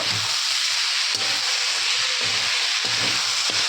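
Small fish sizzle steadily in hot oil in a pan, a loud continuous hiss broken by the scrape and clatter of a spatula stirring and turning them.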